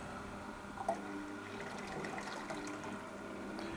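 A Sana 828 juicer keeps running while pressing almonds with about a liter of water, a steady low motor hum with watery sloshing and small liquid gurgles throughout.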